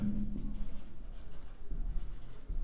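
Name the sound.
writing a word on a board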